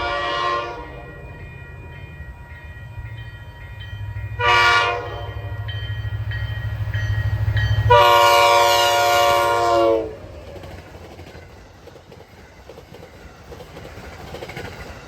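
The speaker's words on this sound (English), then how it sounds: "With its fouled hybrid K5 air horn, this F40 is one of 4 of the 2Cs left on the MBTA roster." An MBTA F40PHM-2C commuter diesel locomotive, number 1036, sounds its fouled hybrid K5 air horn in several blasts, a short note, another, then a long loud chord, over the rumble and clatter of the passing train.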